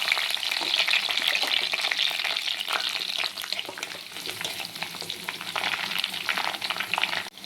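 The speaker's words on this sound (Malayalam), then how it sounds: "ഇതിലേക്ക് നമ്മൾ കീറി വെച്ചിരിക്കുന്ന പച്ചമുളകും കറിവേപ്പിലയും ഇട്ട് കൊടുക്കാം" Slit green chillies and curry leaves hitting hot coconut oil, a loud continuous sizzle and crackle that stays dense for several seconds, with scattered pops and faint scraping as they are stirred.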